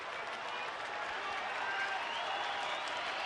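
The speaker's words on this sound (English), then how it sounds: "Fans again starting the applause" Baseball fans at a Tigers–Rangers game in Texas applaud in the stadium, a steady distant wash of clapping and crowd noise that holds evenly throughout without breaks.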